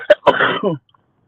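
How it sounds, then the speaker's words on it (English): A single sharp sneeze-like burst followed by a short throaty exhale, close and fairly loud, then silence. "I thought that sneeze was gonna be bigger than what it was."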